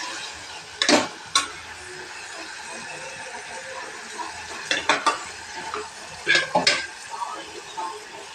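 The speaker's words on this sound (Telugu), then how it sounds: "ఇదండి బాగా మగ్గుతుంది కదా" Mutton curry simmering in oil in a pan, a steady soft sizzle running throughout, broken by a few sharp scrapes and clanks of a spoon stirring against the metal, close by, with no talk.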